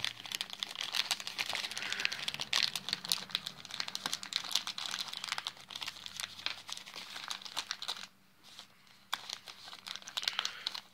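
Paper crinkles and rustles as it is drawn out of a small survival tin, a dense run of crisp crackling with a brief quiet gap before the rustling resumes.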